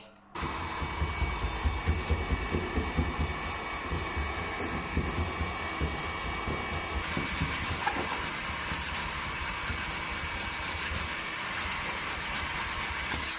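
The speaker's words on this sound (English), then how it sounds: "I've got this heat gun, softening it up a bit and then scraping it off" A heat gun blows hot air onto old glue on a workshop wall. It gives a steady, loud whooshing drone with a faint rhythmic rumble under it, running continuously after a brief start.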